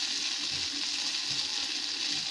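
Salt and turmeric sauté in hot oil in a pan for a fish curry, giving a steady, close hiss of frying that runs evenly throughout with no talk.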